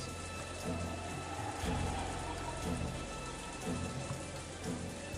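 Steady rain pours down in the visual novel Umineko, a dense, even hiss of falling water with no voices, low and constant throughout.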